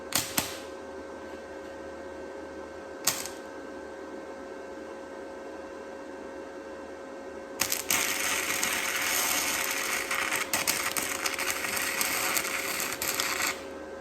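A wire-feed welder runs on metal with the feed set too fast, giving a loud, steady crackling hiss that starts partway through after a couple of sharp pops, over a constant background hum.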